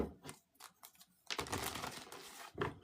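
Tarot cards shuffled quickly during a reading, a series of crisp papery riffles and flicks, close and fairly loud, with short bursts broken by brief pauses and a longer continuous shuffle in the middle.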